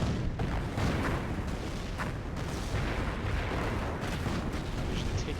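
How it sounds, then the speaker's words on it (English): Artillery shells pounding Axis positions in Company of Heroes, a steady stream of overlapping booms and gunfire crackle in a continuous loud wash, with faint speech tucked underneath. "the artillery coming down on Axis positions over here"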